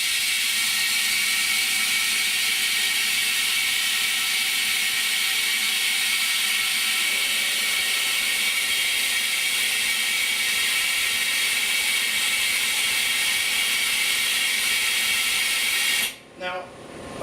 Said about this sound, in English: I put the vacuum on so it holds it while I'm wiping it